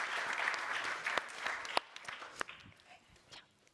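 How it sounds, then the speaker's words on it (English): Audience applause at a panel event on AI and digital health, steady clapping from a crowd that thins out with scattered claps toward the end. "So a big round of applause for all of them."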